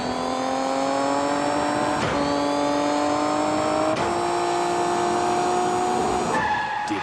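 Kart engines from the N64 video game Diddy Kong Racing, whining tones that climb in pitch and reset at each gear change, with a squeal near the end, loud and continuous.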